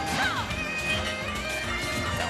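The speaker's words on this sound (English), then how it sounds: "Down smashing for good measure." A down smash attack in Super Smash Bros. Ultimate lands with a loud crash and impact, over bright game effects and a continuous busy background of tournament noise.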